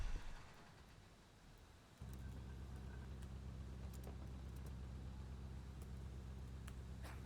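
A cave elevator descends in the game Gloomwood, a low, steady mechanical rumble that starts abruptly after a quieter moment and drones on evenly, with faint scattered clicks and no voices.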